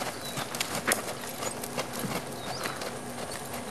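Hooves of a ridden, well-trained horse wearing spurs, clip-clopping in a steady, soft rhythm at moderate distance over a broad hiss of outdoor background noise, with no talk.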